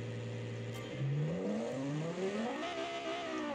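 A hyper station wagon's race engine in a video game revs up through rising gear pitches, climbing and shifting repeatedly, loud and close with a synthetic, game-like tone.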